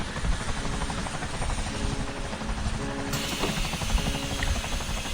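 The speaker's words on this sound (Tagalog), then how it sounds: "Sa helicopter ako ngayon." A helicopter in a video game gives off a steady, loud rotor chop with engine buzz that runs unbroken throughout, close and without talk.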